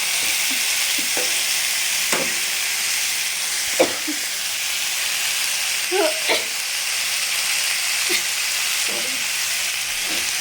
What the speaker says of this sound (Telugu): బాగా మిక్స్ చేసుకోండి